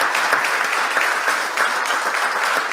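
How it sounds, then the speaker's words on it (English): Audience applause after a theater piece, a dense, steady wash of many hands clapping at even loudness throughout with no voices breaking through. "Clap for the girls"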